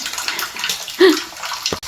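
Weak tap water collecting in a sink basin, heard close up as a continuous splashing, gurgling stream with a brief louder splash partway through.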